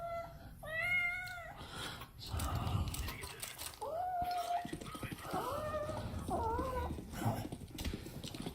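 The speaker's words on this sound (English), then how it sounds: "While the cat was understandably upset the whole time, he captured a strange sight." An upset cat meows repeatedly in rising, drawn-out wails over a busy background of shuffling and clattering, with a few distinct cries spaced across the moment.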